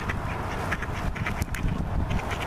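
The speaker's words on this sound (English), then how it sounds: "There's a quack, quack, quack like that." Ducks quacking at a lake, a steady busy chorus of many birds close by with overlapping calls and soft background noise throughout, no talking.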